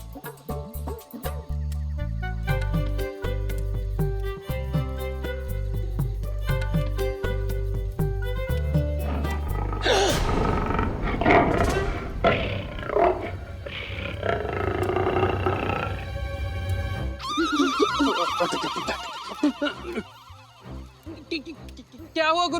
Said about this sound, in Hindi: ये बाघ की ही दहाड़ है